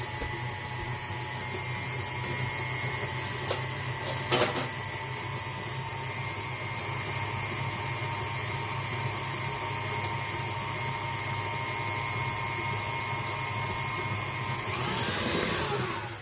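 An electric hand mixer whirs steadily while blending homemade buttermilk of lemon juice and milk for a lemon blueberry cake, a continuous motor hum lasting throughout with a brief clatter partway in.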